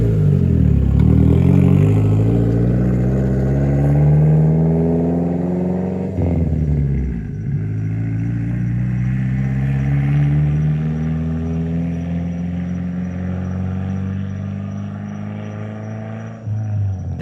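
Nissan car with a turbocharged KA-T engine on fixed ECU timing, revving hard and long while held in second gear, a loud continuous rising engine drone with a brief dip partway through.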